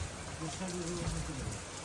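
Steady rain falls in a forest along Dhangmari canal in the Sundarbans, a soft, even patter running throughout under a person's talking.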